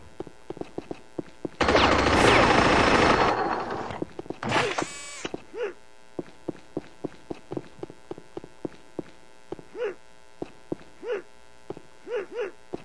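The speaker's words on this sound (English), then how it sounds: "Even Flo rips it up with a minigun." Minigun fire in the video game Unreal Tournament comes as a dense, loud burst of rapid shots lasting about two seconds, then a short second burst, followed by sparse, quieter clicks and thuds.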